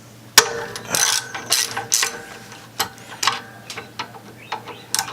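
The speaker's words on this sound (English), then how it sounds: "I'm going to use an extension. I'm going to start by taking the foot pegs off." Ratchet wrench on an extension with a 5/16 Allen socket working the foot peg bolts of a Harley Dyna motorcycle, heard as quick metallic clicks and clanks in irregular bursts, close and fairly loud.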